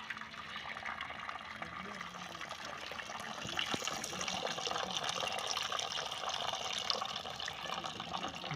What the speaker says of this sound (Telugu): ఇక్కడైతే గంజారుతున్నాం. అన్నం ఉడికిపోయింది. వేడివేడి నీళ్ళు అయ్యి వేడివేడి గంజి అది.